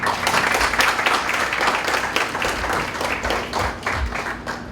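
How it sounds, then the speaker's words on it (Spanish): Sustained applause from an audience at a talk on Pope Francis's legacy, dense steady clapping filling the room at even loudness without pause. "Les pido un fuerte aplauso para nuestro ponente"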